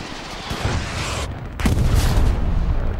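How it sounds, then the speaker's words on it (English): Artillery pounds a Stalingrad battlefield in a video game: dense, loud, low rumbling booms that run together into a continuous roar. "Artillery's pounding them."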